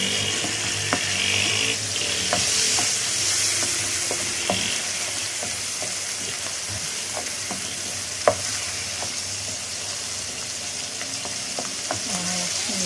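Alexandrian-style liver with garlic and vinegar sizzling in a pan as it is stirred, a constant fry hiss with scattered scraping clicks of the utensil and one sharper clack near the end.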